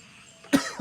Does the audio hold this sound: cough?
yes